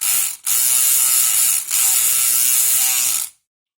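An Apis 6540 lock being worked with a Kronos EPG pick gives a loud, rapid ratcheting mechanical buzz in three bursts separated by brief pauses, then stops abruptly.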